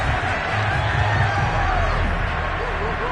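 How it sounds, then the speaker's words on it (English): A football stadium crowd roars and shouts continuously while watching a replay, a dense, loud wash of many voices with a commentator's voice faintly mixed in. "Plenty of shouts from this crowd as they watch the replay"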